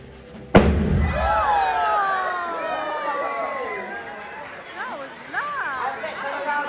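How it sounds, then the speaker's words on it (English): A sealed bottle of liquid nitrogen bursts inside a barrel at a live science show, one sharp, loud bang followed by excited crowd chatter and reactions from the audience. "Wow, it's a big bang."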